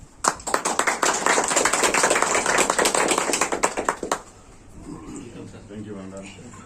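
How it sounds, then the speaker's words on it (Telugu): An audience at a Telugu civic ceremony welcoming a new education officer claps in a loud, dense burst that stops abruptly after about four seconds, followed by quieter talking. "క్లాప్స్ అందరూ."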